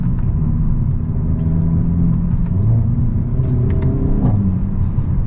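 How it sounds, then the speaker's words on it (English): A Hyundai Elantra N driving in Sport mode gives a low, steady exhaust rumble from inside the car, with the engine note rising briefly near the end. "Exhaust sounds really good."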